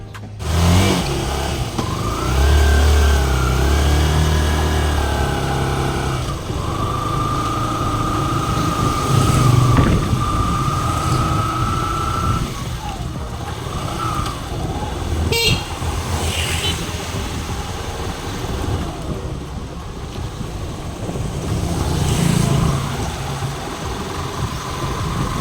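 Motorcycle engine running steadily while riding through village streets, revving up and settling with shifting pitch, close and continuous, with passing traffic and a brief horn toot.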